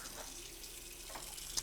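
Water from a hose flowing steadily onto gutter screens, a quiet continuous trickle and splash with a brief louder spatter near the end.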